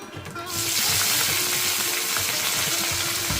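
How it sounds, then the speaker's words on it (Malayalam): Dried red chillies and curry leaves hit hot oil for a poori masala tempering, bursting into a sudden loud, crackling sizzle that stays dense and steady after a quieter first half-second. "ഇനി നമുക്ക് വറ്റൽമുളകും കറിവേപ്പിലയും ചേർത്ത് കൊടുക്കാം"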